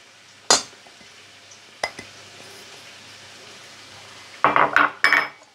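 A spoon clinks against a bowl of minced shrimp mixed with wheat flour and tapioca. Two isolated taps come first, then a quick burst of scraping and knocking near the end, close by, with no voices.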